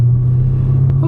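A 2010 Chevrolet Camaro SS with a 6.2-litre LS3 V8 and six-speed manual cruises slowly at low revs, giving a steady deep engine drone and rumble throughout, close and fairly loud, with no talking.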